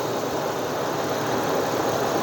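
A used car with a 4-liter V6 engine idles under an open hood in a steady, loud, unbroken rumble with an even texture and no voices.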